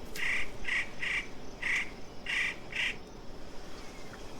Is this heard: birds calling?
yes